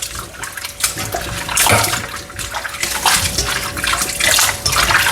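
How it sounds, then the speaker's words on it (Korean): Webfoot octopus, some 30 to 40 of them, rinsed under running water after scrubbing the suckers with flour and salt; steady splashing and gushing water with sloshing surges, close and loud, no talk. "지금 빨판에 있는 이물질을 헹궈내고 있습니다."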